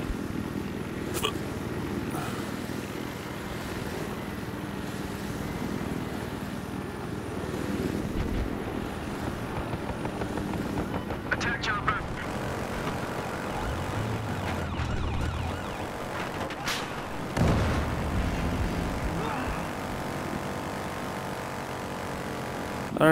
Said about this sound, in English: Attack chopper.